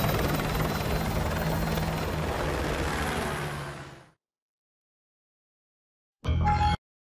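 A military helicopter in Call of Duty: Modern Warfare 2 Remastered gives a loud, close, continuous rotor and engine roar that fades out into silence, followed by a brief burst of sound moments later.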